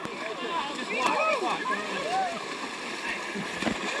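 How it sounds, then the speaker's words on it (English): Trail-race runners wade and splash through a strong-current river crossing at the Leatherman's Loop race, repeated churning splashes and sloshing close by, mixed with several people talking and calling out. "First river crossing."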